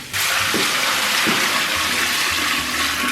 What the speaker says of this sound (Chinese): 先给它倒点凉水，焯一下这 个羊腿，